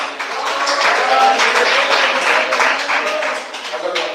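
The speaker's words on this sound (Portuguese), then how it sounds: "Debate mais palmas." Audience applause during a church debate, a dense steady wash of many hands clapping that swells and holds for several seconds before easing slightly at the end.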